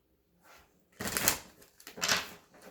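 A few quick bursts of papery riffling as a deck of tarot cards is shuffled, with a short pause between bursts; close and fairly quiet.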